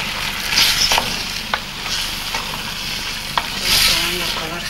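Chicken sizzles in a frying pan with tomato being stirred in for a sauce at a country inn kitchen in San Salvador de Jujuy, with steady frying hiss and a few sharp scraping strokes of the spoon, close and alone.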